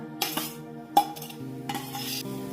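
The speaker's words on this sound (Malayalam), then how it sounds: "നമുക്കൊരു ചട്ടി അടുപ്പത്ത് വെച്ചിട്ട് ഈ തേങ്ങയും ഈ മസാലകളൊന്ന് വറുത്തെടുക്കാം." Grated coconut and spices being dry-roasted in a clay pot on a stove: soft scraping and stirring with a few sharp utensil clinks against the pot, fairly quiet and close, with no talking.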